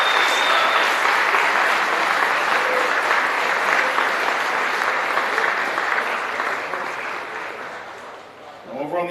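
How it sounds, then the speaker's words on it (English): Sustained applause from a large audience at a Formula SAE awards ceremony, honoring the combustion-class overall winners; dense clapping holds steady, then thins out near the end. "How about one more big round of applause for all of our combustion side overall winners."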